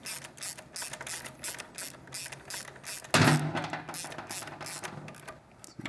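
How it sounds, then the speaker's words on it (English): A ratchet clicks in quick repeated bursts as a 12mm socket and wrench tighten shock hardware on a Triumph motorcycle, with a sharp metallic knock midway and a steady mechanical clatter close by. "with your 12mm socket, your 12mm wrench, tighten this one up"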